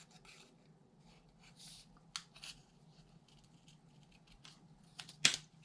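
Scissors cut through fabric scraps in quiet, close snips and soft rustles, with a couple of sharper clicks from the blades near the end, all faint against a quiet room.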